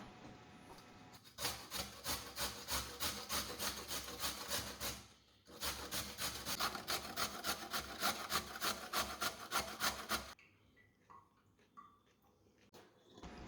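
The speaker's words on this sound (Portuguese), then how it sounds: "esta cenoura eu vou ralar na parte mais grossa" A carrot is grated on the coarse side of a grater. The scraping strokes are quick, rhythmic and close, with a short pause partway through, and then they stop, leaving faint kitchen sounds.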